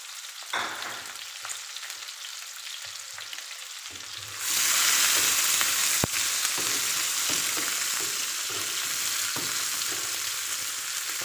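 Chopped garlic dropped into hot oil on top of onion in a pot of vegetable dal: quieter stirring at first, then a sudden loud, bright sizzle that keeps going steadily with a few scrapes.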